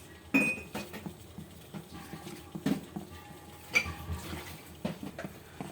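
A spoon clinks and scrapes against a bowl while powder mixture is stirred into melted jaggery, several sharp metallic taps at irregular intervals over quieter mixing sounds.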